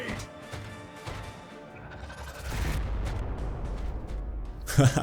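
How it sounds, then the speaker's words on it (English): A frag grenade goes off in the Warhammer 40K Regicide game as a rumbling blast that swells midway and holds, followed by a sharp crash near the end. "That missed. Even though he was right in the center of the explosion."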